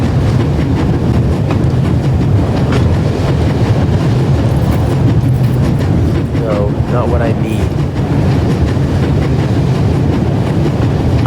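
Steady rumble and rhythmic clatter of a moving train interior in The Raven: Legacy of a Master Thief game, loud and continuous, with someone briefly speaking over it.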